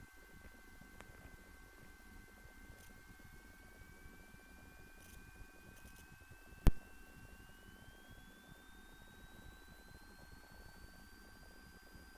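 A light training airplane departs the runway at Chesapeake, its engine a steady, even drone heard from inside the cabin, with a single sharp click partway through.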